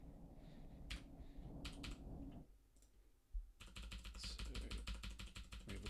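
Quick bursts of computer keyboard typing, close and fairly quiet, with brief pauses between the runs of keystrokes and no talking.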